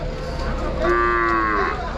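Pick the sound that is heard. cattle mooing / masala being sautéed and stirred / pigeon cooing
cattle mooing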